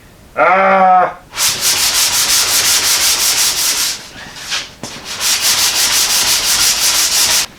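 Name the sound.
sanding car bodywork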